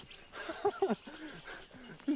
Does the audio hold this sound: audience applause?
no